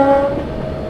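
An Indian Railways express train at a level crossing, a brief loud rumble with a sustained horn tone over the rolling noise.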